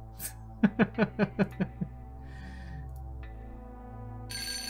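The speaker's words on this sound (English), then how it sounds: "The phone begins to ring." A telephone rings in the video game Move 78, giving a quick run of about seven bright, evenly spaced trills. A faint hum sits under the ringing, and a higher tone joins near the end.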